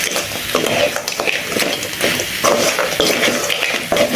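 Pepper, cumin and spices being stirred in a cooking pan, with steady scraping and light sizzling close by and a utensil clinking against the pan now and then.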